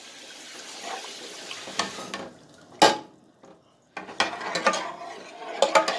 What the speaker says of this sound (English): Stir that well.